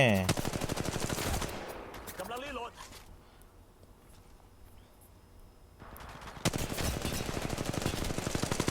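Rapid automatic gunfire from Apex Legends Mobile, loud bursts at the start and again near the end with a quieter lull between, with a voice talking over the opening.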